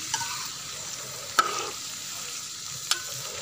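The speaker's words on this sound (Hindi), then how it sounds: "अब आलू गोभी को ऑयल में खूब भूनेंगे।" Potatoes and cauliflower fry in oil for aloo gobi, giving a bright continuous sizzle with two sharp clacks of a stirring utensil against the pan.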